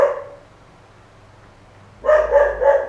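A pet dog in a home lets out a brief, quick series of barks after a quiet stretch, with a faint bark also at the very start.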